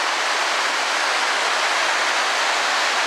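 Hogs Back Falls on the Rideau River in Ottawa, heard from the top of the falls in autumn: a loud, steady, unbroken roar of rushing water, close by, with no voices.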